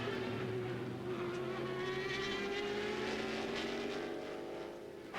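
A Riley Scott race car with a Ford engine roars during an auto race, its loud sustained engine note slowly shifting pitch under a broad wash of track noise.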